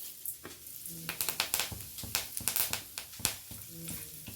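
Sharp crackling and popping of mustard, cumin and fenugreek seeds frying in hot oil in a deep pan, rapid irregular spits close by over a sizzling hiss.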